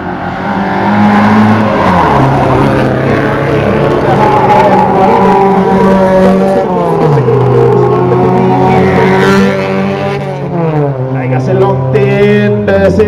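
Senior rallycross cars in a B-final race at Eikås, with loud engines close by that rev, shift and surge continuously. A commentator talks over the racing throughout.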